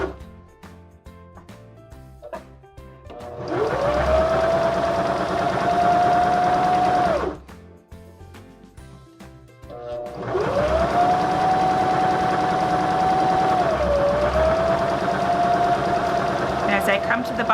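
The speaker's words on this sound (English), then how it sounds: "I'm going to stitch to the bottom of this tuck." A Baby Lock Zeal sewing machine stitches a fabric tuck in two runs of steady, close motor whir with rapid needle chatter, separated by a brief pause.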